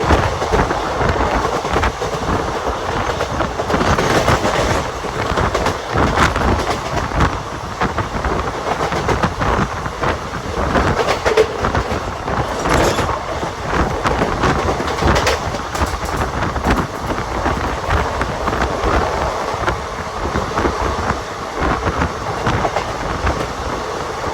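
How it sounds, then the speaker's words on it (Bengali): A crowded passenger train on the Kolkata line toward Naihati Junction runs steadily along the tracks, with a loud, continuous rumble and rhythmic clickety-clack of the wheels filling the whole stretch, without talk. "ট্রেন কিন্তু বেশ ভালোই টানছে।"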